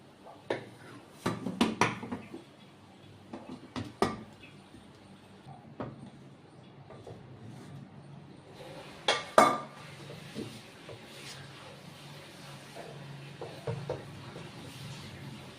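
A metal pot is handled and flipped upside down while making parda biryani, giving scattered clanks and knocks of cookware, clustered early and again near the middle, against a quiet kitchen background.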